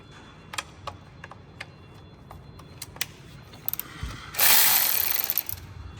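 A ratchet wrench clicks in short, spaced bursts while loosening transmission pan bolts on a Mercedes W204, close and fairly quiet, followed by a louder rushing hiss near the end.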